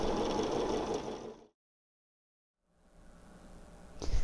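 Sewing machine stitching light and medium fabric pieces together for a clover quilt block, a close, steady mechanical whir that stops abruptly, then a pause before quieter stitching resumes and ends with a knock.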